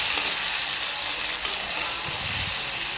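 Onions and tomatoes salted and frying in a pan give a steady sizzle, with a few scraping stirs and a brief clink; there is no talking.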